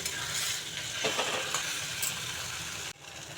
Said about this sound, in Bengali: একটু সময় নাড়াচাড়া করি নামিয়ে নেব